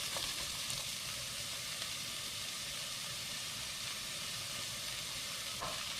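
Chopped onions with salt frying in a pan, giving a steady, soft, continuous sizzle and hiss with a faint occasional stir and no talking.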